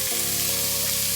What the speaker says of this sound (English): I'm gonna go ahead and stir for a bit.